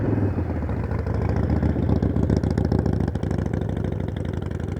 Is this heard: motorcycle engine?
yes